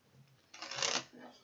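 Objective cards for the Obsession board game get a quick shuffle, one short riffling burst close by, preceded and followed by faint soft handling.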